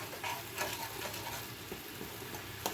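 Spice paste for pabda fish curry fried and stirred in oil over high heat, a steady soft sizzle with scraping stir strokes throughout, close and fairly quiet.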